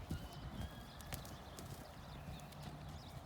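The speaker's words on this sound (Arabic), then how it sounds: "الحركه اللي هو بيعملها دي هو بيعرفني ان هو هينزل يتمرمغ" A horse moves about before rolling on the ground, its hooves clopping in an uneven, close rhythm over steady background noise, with no talking.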